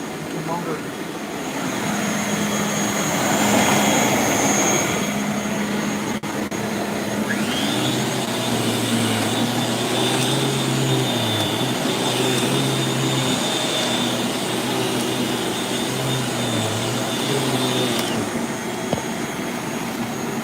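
A V4C vacuum cleaner motor runs steadily with a dense, loud rushing whoosh; partway through, a high thin whine rises and holds for several seconds before dropping away, the motor continuing alone throughout.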